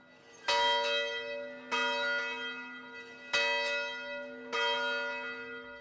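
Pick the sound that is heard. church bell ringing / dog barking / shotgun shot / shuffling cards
church bell ringing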